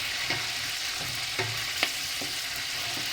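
Capia and green peppers sizzle steadily in a pan on a wood stove while a utensil scrapes and stirs at irregular intervals, with soft clinks breaking through the frying hiss.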